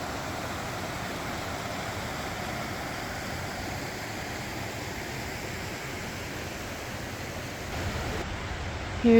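Creek water rushes steadily beside a mountain campsite, a constant broadband hiss that stays even and fairly loud throughout with no voices.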